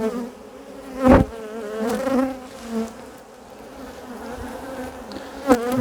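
Honeybees buzz steadily through a hive inspection with brood in all stages, a dense, agitated drone close to the hives, swelling into a few louder passes as bees fly near.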